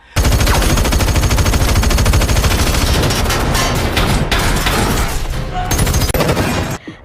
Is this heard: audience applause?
no